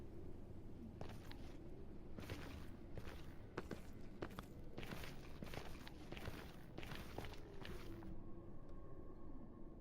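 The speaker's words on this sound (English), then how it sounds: "I keep hearing my own footsteps" Steady, fairly quiet footsteps of a player character crunch through the Crimson Forest of the Nether in Minecraft, a continuous walking rhythm over a low ambient background with no voices.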